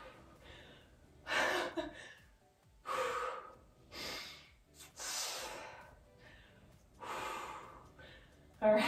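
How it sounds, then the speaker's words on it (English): Heavy, rhythmic breathing during an upper-body weight workout: a series of sharp, forceful inhales and exhales, close and fairly loud, with short pauses between breaths. "Try to control that breath. Deep inhales and exhales."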